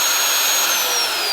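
Magnetic drill with a hollow annular bit cutting into a steel beam, a loud, steady high-pitched whine held throughout with no talk over it.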